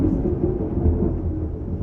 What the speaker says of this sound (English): the storm is like insanely close to me